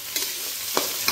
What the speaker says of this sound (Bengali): এই যে কড়াইয়ে অলরেডি আমি আলু আর পেঁয়াজটা ভেজে নিয়েছি